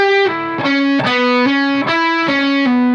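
Distorted electric guitar playing an m7b5 arpeggio lick, a quick run of sustained, bright picked notes stepping through the phrase, loud and close with no talk.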